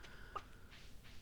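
Chickens clucking softly in the Stardew Valley Expanded farming video game, with a couple of brief, faint clucks heard alone.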